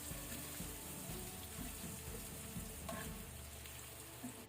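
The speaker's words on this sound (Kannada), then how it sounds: "ಈಗ ಲೋ ಫ್ಲೇಮ್ ಅಲ್ಲಿ ಲೈಟ್ ಗೋಲ್ಡನ್ ಆಗೋ ತನಕ ಫ್ರೈ ಆಗಬೇಕು ಎಗ್ ಈ ಮಸಾಲೆ" Egg and masala fry together on low flame in a pan, giving a steady, soft sizzle with faint stirring scrapes and no voices.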